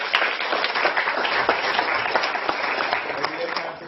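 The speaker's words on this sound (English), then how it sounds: "Let's give them a round of applause." An audience at a presentation on a hospital makerspace breaks into applause, many hands clapping steadily with sharper individual claps standing out, sustained and fairly close.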